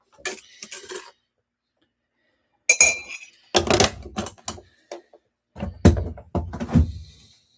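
Dishes and cutlery being washed at a kitchen sink, with bursts of clinking and clattering spaced by short pauses, close and fairly loud.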